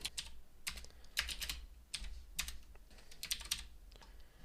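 Bursts of computer keyboard typing while a line of Python code is entered, close and fairly quiet, in uneven clusters of quick keystrokes with short pauses between them.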